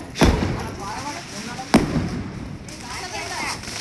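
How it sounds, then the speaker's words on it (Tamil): Two sharp Diwali firecracker bangs burst outdoors about one and a half seconds apart, each loud and close with a short rumble trailing off, while people chatter around them. "பட்டாசு வெடிக்கும் சேஃபாக வெடிக்கணும்"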